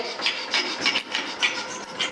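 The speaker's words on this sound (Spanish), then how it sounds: "Esta sería la forma de trabajar, limando" A hand file rasps back and forth across a small workpiece being shaped round, such as a knob or handle, at a school technology workshop bench. About eight even, close strokes come in a steady rhythm, with no talk.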